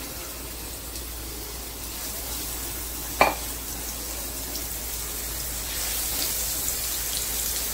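Green chillies sizzle steadily in about three ladles of hot oil, a continuous close frying hiss with a single sharp clink partway through.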